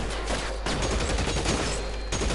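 Gunfire in the L.A. Noire video game comes as a dense, loud barrage of overlapping shots and echoing cracks, going on without a break for a couple of seconds.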